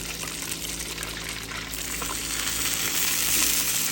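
Fish frying in oil on a Blackstone griddle, a dense, steady crackling hiss that swells slightly louder toward the end, with no voices.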